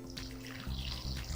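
Warm water is poured into a well in flour for esfiha dough, a steady close splashing stream with a gurgling, shifting tone through the whole short moment.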